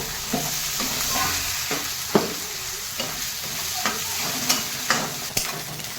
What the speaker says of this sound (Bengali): এবারে এটাকে ভালো করে একটু কষবো